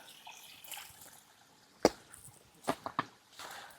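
Water dripping from a rock at the Nagatirtha spring source on a forest trek, a few sharp, close droplet plinks and splashes over a faint, quiet trickle.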